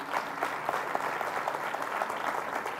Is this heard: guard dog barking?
no